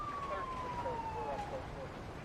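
An ambulance siren wails in the GTA V LSPDFR police game, a steady high tone sweeping slowly downward, heard moderately close over a constant background hum with no talk.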